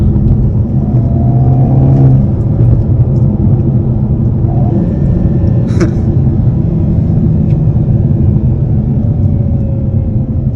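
A 2022 Hyundai Kona N pulls hard in first gear from inside the cabin, a loud steady engine rumble and road drone running for ten seconds, with a faint rising whine early on.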